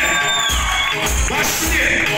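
A festive evening crowd at a railway workers' celebration cheers and whoops for a grand-prize winner, a loud continuous wash of shouts and clapping from many people nearby.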